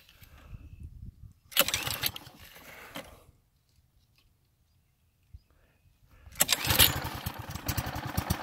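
Sears Craftsman walk-behind string trimmer with a small engine, heard as two loud, rough bursts of cranking and firing separated by a quiet gap, the second catching and running on.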